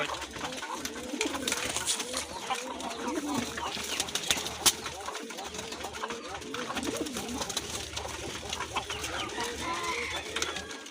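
Large native deshi pigeons with big feathered feet coo continuously in a busy loft, many overlapping throaty calls at moderate volume mixed with other fowl clucking in the background.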